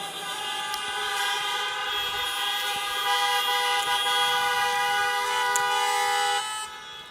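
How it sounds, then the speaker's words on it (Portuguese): A single long vehicle horn blast rings steady and loud for about six seconds, heard alone before cutting off abruptly. "Dá uma buzinada aí."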